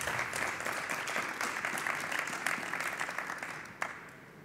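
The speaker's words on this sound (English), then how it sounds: "A round of applause there," Applause at a trade-fair award final ceremony, a steady wash of clapping from a modest crowd that fades slightly toward the end, with one sharper clap near the close.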